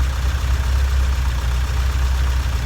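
A fully built engine in a Toyota AE86 idles with a steady low rumble and a slightly wavering idle, close and continuous with no talk over it.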